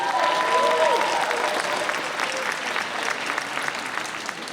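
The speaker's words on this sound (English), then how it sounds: "Another round of applause for our mayor" An audience at a ceremony applauds the mayor of Rahway with dense, steady clapping from many hands, easing slightly toward the end. A voice is briefly audible at the start.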